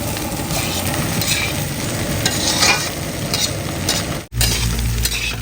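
Egg fried rice stirred in a hot oiled pan with onion and coriander, a steady scraping and sizzling that runs continuously, briefly cutting out near the end before resuming, with no voices.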